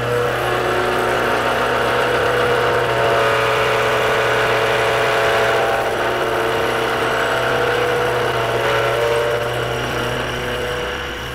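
A face mill fitted with APMT1604 inserts cuts aluminum plate on mechanical feed at about 1800 RPM, with a little WD lubricant. A loud, steady machining drone with a tonal hum runs unbroken for the whole stretch.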